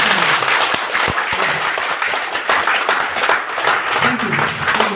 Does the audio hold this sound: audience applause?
yes